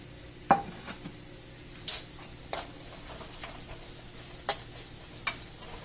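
Turmeric, coriander and red chili powder sizzle in a pan for paneer butter masala while a spoon stirs them, with sharp scraping strokes every second or so over a steady soft fizz.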